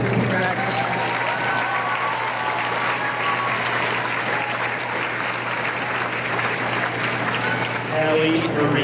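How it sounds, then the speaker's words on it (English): Sustained applause from an audience at a high school graduation ceremony for a student graduate, a dense, even wall of clapping filling the hall, with faint voices and cheers mixed underneath. "And a round of applause for this student graduate."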